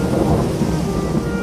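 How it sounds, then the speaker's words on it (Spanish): Heavy rain falls steadily outdoors while thunder rumbles low and continuous, a dense, loud wash of storm noise with no voices. "No podemos salir porque está lloviendo."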